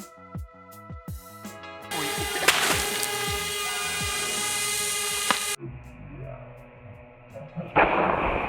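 A homemade bottle rocket powered by vinegar pressure, its lid leaking, bursts off outdoors with a sharp release and a sustained, loud whooshing hiss for a few seconds, preceded by scattered clicks and knocks and followed by quieter rustling and handling noise.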